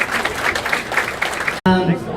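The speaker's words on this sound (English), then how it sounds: "Hold your applause until the end of each group so we can do them together." Audience applause at a youth bowling awards ceremony, a steady wash of clapping that cuts off abruptly, followed by a voice speaking.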